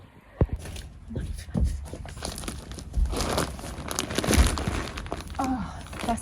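Plastic crinkles and crunches in bursts while being handled in a garden, with close rustling and scattered thumps that sound fairly loud throughout.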